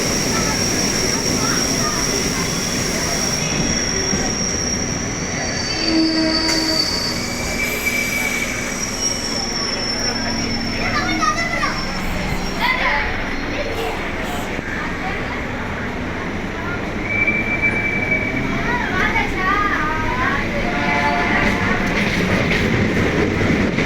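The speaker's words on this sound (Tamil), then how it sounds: "சென்னை பீச் பக்கம் வந்து பார்த்திங்கன்னா ட்ரெயின் வருது" An EMU commuter train pulls into Chennai Beach railway station, wheels squealing loudly and clattering over the rails for a sustained stretch, with station noise and occasional voices in the background.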